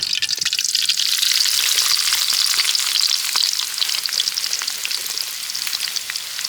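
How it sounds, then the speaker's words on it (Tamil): Onions frying in coconut oil for a Kerala-style fish biryani give a loud, steady hiss and crackle, heard close up without talk. "வெங்காயத்தை போட்டு வறுத்துக்கலாம்"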